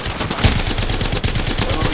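Rapid automatic gunfire in the Apex Legends video game rattles in a fast, dense stream of loud shots that continues without pause.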